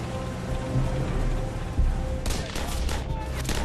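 Dense gunfire from a WWII battle at the Battle of the Bulge, a rattling fusillade of rapid shots and rumbling blasts, loud and continuous, no talk.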